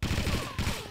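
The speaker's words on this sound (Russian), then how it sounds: "Нет, ну как бы выстрелы, видишь, они где взрываются, они не пролетают насквозь." Rapid gunfire in a Quake multiplayer map, a dense burst of close, loud shots in quick succession, pausing briefly and then resuming before fading.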